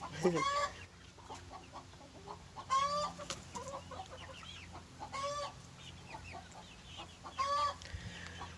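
Young chickens about nine weeks old cluck and chirp among an existing backyard chicken flock, with repeated bursts of clucking and squawks spaced a few seconds apart over faint background noise.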